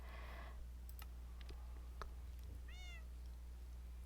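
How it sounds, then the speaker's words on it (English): A cat meows once in Minecraft, a short, clear in-game meow near the end over a low hum, with scattered keyboard and mouse clicks throughout. "We got this kitty here."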